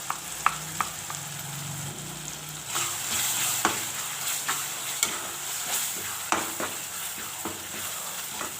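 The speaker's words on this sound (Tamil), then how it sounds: "அதை சேர்த்து ஒன்று சேர வதக்கிக்கலாங்க." Squid and masala paste sautéing in a pan for a squid gravy, a steady oily sizzle with repeated scraping and stirring clicks from a spatula, close and moderately loud, no talking.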